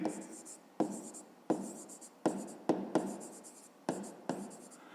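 Pen or pencil scratching out a fifth-grade math solution on paper in repeated short strokes, each burst starting sharply and trailing off, close and fairly quiet with no talk.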